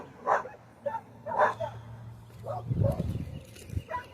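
A dog on private property barks and yips at a stranger in several short bursts, with a whimpering tone, close by and mixed with a person talking.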